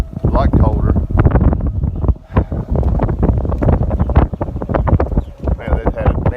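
Strong wind buffets a microphone on a golf course in Baton Rouge, loud rumbling gusts that rise and fall throughout.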